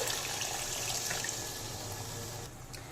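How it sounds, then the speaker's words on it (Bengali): Water poured into a pan of curry with potatoes and cauliflower, a continuous close splashing, gurgling stream that runs steadily for nearly three seconds before tapering off. "দিলাম ছোলের জন্য পরিমাণ মতন জল"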